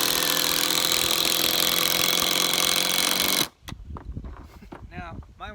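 A Ryobi 18V drill driver drives 3.5-inch screws with a loud, continuous whirring grind for several seconds, then stops suddenly, and a person talks over faint clatter afterward.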